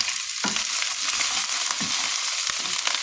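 Kale and beef stir-frying in a pan with shrimp and mixed vegetables, a steady bright sizzle broken by repeated scraping and tossing strokes of the spatula.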